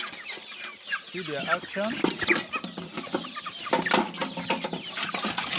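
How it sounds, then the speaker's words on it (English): Broiler chickens in a pen cluck and chatter continuously nearby, a busy overlapping flock sound with someone speaking briefly over it. "So now, you see these broilers."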